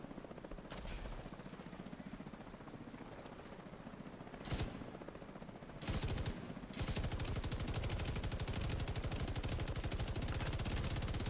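GR9 light machine gun firing in The Division 2, a long rapid automatic burst of tightly spaced shots that takes over in the final seconds, loud and close, preceded by a few scattered single shots and a whirring helicopter-like drone.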